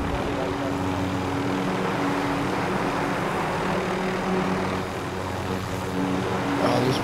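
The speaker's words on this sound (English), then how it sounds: "There's another chopper." A helicopter's steady rotor and engine drone from Call of Duty: Modern Warfare runs continuously and fairly loud, with a faint voice talking in the background.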